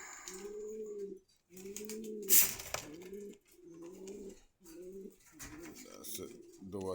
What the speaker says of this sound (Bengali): আর আরো কিছু কবুতর আছে।